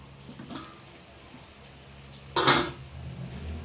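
A metal lid clanks down onto a frying pan of squid with egg, one sharp clatter standing out over a quiet kitchen background with faint sizzling.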